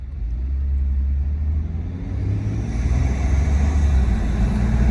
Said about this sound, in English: here driving it now, it definitely makes some cool intake noises.